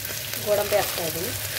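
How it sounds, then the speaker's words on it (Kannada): Cashews frying in hot oil with cinnamon, cloves, curry leaves and ginger-garlic paste, making a brief, soft, close sizzle with a little crackle and light stirring. "ಸ್ವಲ್ಪ ಫ್ರೈ ಮಾಡ್ತಾ ಇದ್ದೀನಿ"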